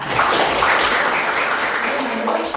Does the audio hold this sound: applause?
yes